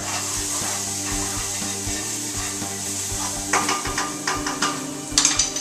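Pizza sauce ingredients with cracked black pepper stirred in a bowl, a low steady hum at first, then a run of close scraping and rubbing strokes from the spoon toward the end.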